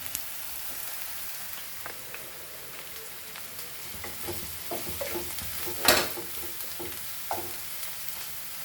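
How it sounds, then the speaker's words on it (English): Steady crackling sizzle of chilies frying in hot oil for poha, with occasional louder pops and spits over the continuous hiss. "this is frying and there the chilies are frying"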